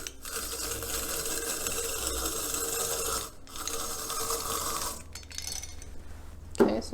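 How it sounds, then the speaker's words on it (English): A food processor grates a small carrot with a steady, buzzing mechanical whir, close and fairly loud, pausing briefly twice before a short clatter at the end. "now I'm going to add a small carrot, which I'm going to grate right into my bowl of noodles with my food processor"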